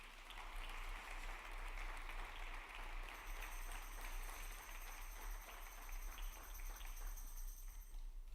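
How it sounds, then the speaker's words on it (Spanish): A congregation claps steadily through a church service, a dense, even roar of applause. Partway through, a faint sustained ringing tone begins above the clapping. "Dale un aplauso al Señor."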